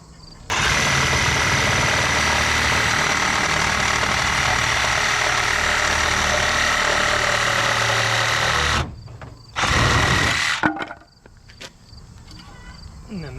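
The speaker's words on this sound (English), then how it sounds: "that's why I'm just using a Sawzall" A reciprocating saw (Sawzall) cuts roughly through lumber during chicken and turkey house upgrades, running loud and steady for about eight seconds, stopping, then buzzing again in a short final burst.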